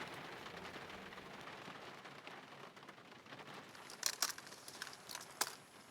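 Rain falls outdoors onto dumped electronic waste and discarded appliances as a steady, dense patter. Several sharper drips and crackling taps stand out near the end.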